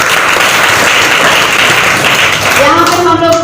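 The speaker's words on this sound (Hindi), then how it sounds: "डिएक्शन प्लेटफॉर्म के लिए जोरदार ताली।" A crowd at a DXN gathering claps loudly and steadily, and a voice rises over the clapping near the end.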